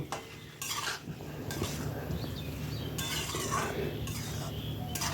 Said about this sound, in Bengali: গোলমরিচের গুঁড়ো দিয়ে নেড়ে নিলেই কিন্তু